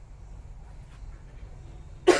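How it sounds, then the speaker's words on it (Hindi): A single short, sharp cough bursts out at the very end after a stretch of quiet room hum, close to the microphone. "खांसी थोड़ा सा हो गया है।"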